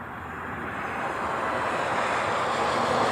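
A Boeing 717 airliner in Moana 2 livery at Honolulu airport builds from a distant rumble into a broad, steady jet roar that grows louder as it approaches.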